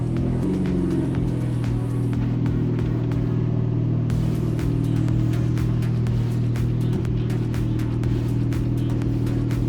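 A fake Lamborghini replica car driving, its engine droning loud and close with a steady low rumble and rattling clicks from a bumpy ride throughout.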